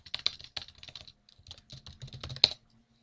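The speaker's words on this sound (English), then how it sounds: "And now let's type that famous command in," Someone types a short command, ipconfig, into PowerShell on a computer keyboard: quiet, irregular clusters of crisp key clicks with brief pauses, ending in one sharper keystroke.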